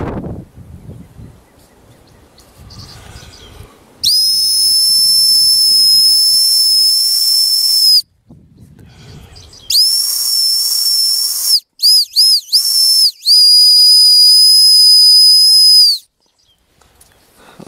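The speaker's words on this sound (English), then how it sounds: "so there's your willow whistle" Homemade black willow whistle blown in several bursts: a long shrill high tone, a pause, then more blasts including quick short toots and a final sustained note, loud and close.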